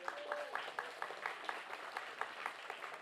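Recipients at a university convocation clap loudly in a quick, steady rhythm, many hands together for about three seconds, with a faint voice under the applause.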